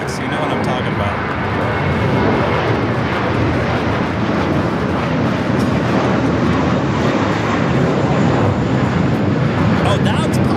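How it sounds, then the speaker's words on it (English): An American Airlines Airbus A321 takes off at Los Angeles airport, its jet engines producing a loud, continuous, full-bodied roar that stays steady and close throughout. "That was American Airlines 382 taking off to Boston on the A321"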